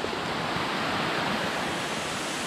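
Fikong Falls pours onto bare rock in a dense, steady broadband rush of falling water, loud and close, with no voices.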